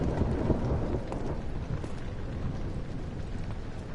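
Thunder rumbles over heavy rain in the Rainy Hall level of the video game Amnesia: The Dark Descent, a loud, dense, continuous wash of storm noise with no voices.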